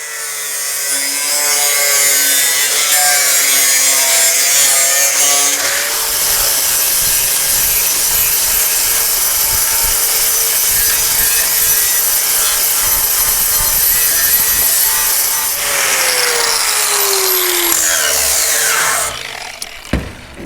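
A power tool cuts loud and close into the rusty sheet-metal radiator core support of a 1967-72 Chevy/GMC truck, making a sustained grinding whine that changes pitch as it bites and then winds down at the end.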